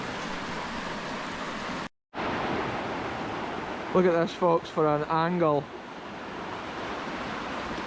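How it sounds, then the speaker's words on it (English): River water swirling and churning in a deep river beneath an abandoned railway bridge in Scotland, a steady broadband rush, close and continuous, with a voice speaking briefly over it midway. "The river's so deep here. The water's just swirling and churning,"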